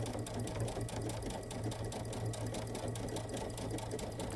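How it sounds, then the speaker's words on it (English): Sewing machine stitching a quarter-inch seam around a fabric tray, a fast, even mechanical whir with rapid regular needle clatter, steady and unbroken throughout. "So we're going to sew 1/4 of an inch all the way around here."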